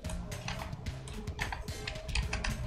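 Keys tapped on a computer keyboard in quick, uneven bursts of soft clicks, close and fairly quiet against a low background hum.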